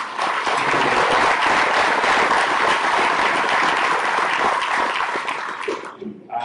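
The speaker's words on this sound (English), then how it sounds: "I think we all need to give them a big round of applause as well" Loud, sustained audience applause at a livestock sale event fills the room, steady dense clapping that thins out abruptly near the end.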